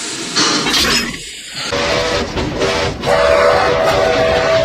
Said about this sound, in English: Stop the train just before you hit the switch track overhead.